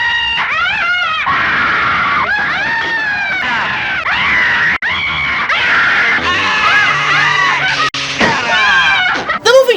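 An actress in the 1933 film The Invisible Man screams almost nonstop, loud shrill wails rising and falling in long repeated cries over a film soundtrack.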